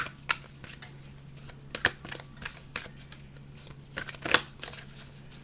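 Tarot cards riffled and shuffled in quick bursts of crisp flutters, close and fairly quiet, with a faint steady hum beneath and no talking.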